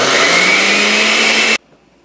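A kitchen blender whirs loudly and steadily while chopping nut-free pesto ingredients, then cuts off abruptly into near silence.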